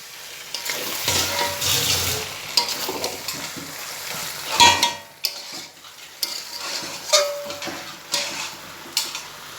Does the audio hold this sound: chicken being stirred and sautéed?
yes